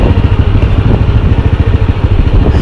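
A Honda EX5 motorcycle engine chugs close by in a steady, loud, rhythmic low putter, like a small single-cylinder bike idling or running at low revs, with no talk over it.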